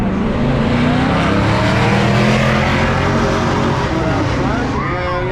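A 1967–1969 Chevrolet C10 pickup and a Plymouth Barracuda accelerate hard down a drag strip. Loud engines roar and climb in pitch as they build speed, and a commentator talks over the noise.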